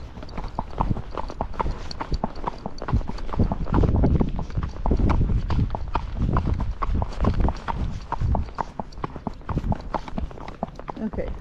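Hooves of a ridden Tennessee Walking Horse clip-clopping on a road, a steady rapid rhythm of close, sharp hoof strikes with a rider talking over it throughout.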